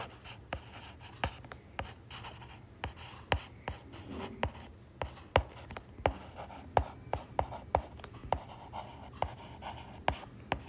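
Pen strokes scratching across paper while writing out country capitals, a steady run of short scribbles and taps, close and fairly quiet, with no talk.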